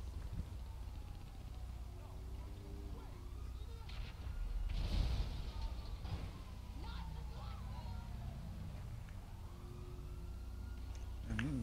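A police siren wails in the Grand Theft Auto V video game with rising and falling sweeps over a low engine rumble, mid-distance and moderately loud, and speech is heard over part of it.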